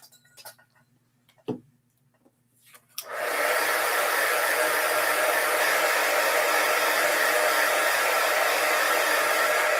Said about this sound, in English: So we are going to heat set that just a touch.